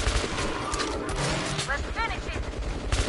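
Rapid, dense gunfire from a weapon in Metro Last Light Redux hammers on continuously, loud and close, with a voice briefly heard amid the shots.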